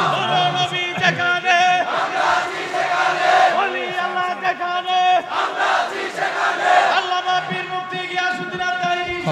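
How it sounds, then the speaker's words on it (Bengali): Crowd at a Bangla religious sermon shouting slogans in unison, loud chanted calls rising and falling in repeated waves with hands raised, close and dense throughout. "কারা কারা নবীর ভালোবাসা অন্তরে আছে একটু হাত তুলে স্লোগান দেন"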